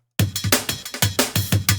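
Drum break processed with an Opalize harmonics plugin: a punchy, looping pattern of kicks and bright crunchy snares at a steady groove, loud and alone after a brief silent start.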